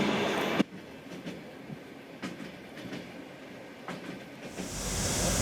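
A Trans-Siberian passenger train rolls along the rails, heard from inside as a steady rumble with repeated rhythmic wheel clicks and clacks. A sharp jolt comes near the start and the noise swells toward the end.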